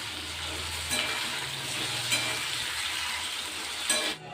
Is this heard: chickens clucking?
no